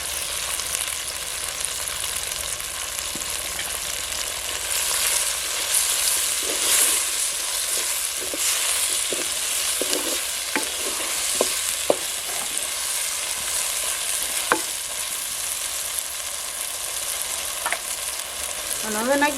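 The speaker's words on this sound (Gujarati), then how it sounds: "હવે નાખી દઈએ આપણે આ મોળેલી ડુંગળી. અને લીલા મરચાં કટકા." Chopped onion and green chillies sizzle steadily in hot oil for village-style vaghariya rice, a constant close hiss broken by occasional scraping stir clicks.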